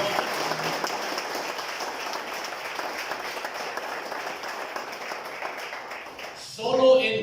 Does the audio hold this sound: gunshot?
no